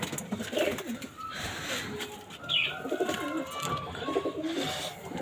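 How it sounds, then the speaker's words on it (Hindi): Pigeons coo softly and repeatedly outdoors, several birds calling at intervals over a steady background murmur, with a brief chirp. "चलो देखें, सारे कबूतर आ गए हैं बाहर।"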